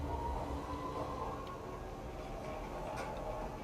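A subway train in a video game rumbles past steadily at low volume, with a continuous rolling drone and a few faint clicks of wheels on rail.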